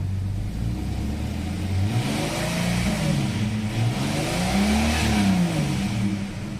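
A Jeep ZJ engine, freshly back running after an ECU repair, is revved several times in short rising and falling surges over a steady idle, close by and fairly loud.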